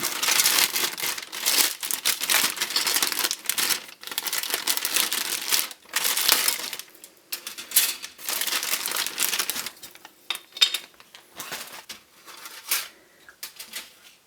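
Crisp plastic crinkles and tears loudly up close as the sealed bag of a Hasegawa tank model kit is ripped open, in bursts with short pauses, then quieter rustling.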